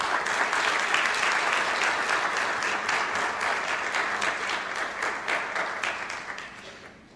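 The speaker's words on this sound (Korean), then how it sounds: "크게 한번 격려 박수 올리십시다" A congregation at a Wednesday church service in Toronto gives steady, dense applause for an elder coming forward to speak. The clapping stays loud and full for about seven seconds before thinning out and fading at the end.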